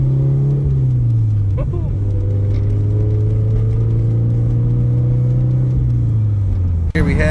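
Turbocharged Scion FR-S engine droning and building boost on the street, a steady mid-pitched hum that climbs slightly, with a person's excited shout over it and a sharp click near the end.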